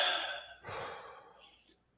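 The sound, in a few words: two deep breaths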